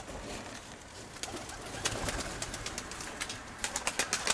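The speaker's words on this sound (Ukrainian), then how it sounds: "Це стара голубочка." Soft cooing of an old female pigeon against a faint background hiss, with a few sharp clicks and rustles growing more frequent toward the end.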